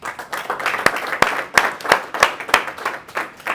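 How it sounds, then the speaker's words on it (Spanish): A small church congregation applauds in a rhythmic, steady beat of claps for Christ, fairly close and brief, with the claps falling in an even pulse. "A dar un aplauso a Cristo."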